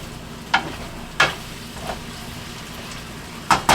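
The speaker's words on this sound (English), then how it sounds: "We're sort of frying up these potatoes." Potatoes frying in a pan and stirred with a wooden spoon, giving a steady low sizzle with a few short scraping stirs spaced through it.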